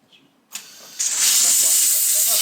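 An Ecologic Vapor steam cleaner gives a soft click, then releases steam in a loud, steady hiss that builds and holds close by.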